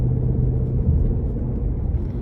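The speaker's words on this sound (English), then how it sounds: "you got that same 5-liter V8" A 2025 Ford Mustang GT Premium with a naturally aspirated 5-liter V8 cruises along, its engine a deep, steady low rumble heard from inside the car, moderately loud and without talk.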